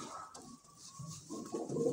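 A pouter pigeon (Gorguero breed) coos softly at close range in a loft, with low, rolling murmurs swelling toward the end.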